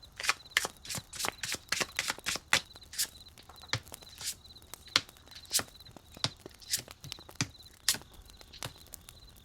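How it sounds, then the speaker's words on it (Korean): Tarot cards are shuffled and drawn in a quiet room, a series of close, crisp riffling flicks and soft slaps in an uneven rhythm, fairly faint, with no talk. "그러면 본격적으로 카드를 뽑아볼게요"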